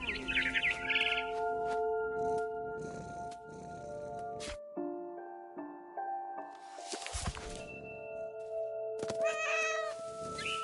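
A cat meows in a PS4 video game over sustained tonal background sounds. Short meows and caterwaul-like cries mix with bird chirps and soft footstep-like taps, at moderate volume, with no voices.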